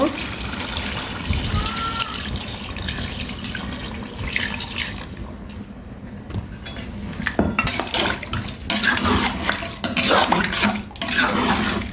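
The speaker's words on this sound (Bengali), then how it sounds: "এখন একটু পানি দিয়ে দিব" Water poured into meat cooking in a pot for khichuri, a steady running splash with clinks of utensils and stirring, continuing for several seconds at moderate level.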